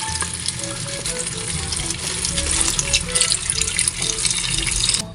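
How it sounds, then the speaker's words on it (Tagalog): Potato and cabbage are washed under a running tap, the water rushing steadily into a sink with splashing and handling noises close by throughout. "So hugasan na muna natin."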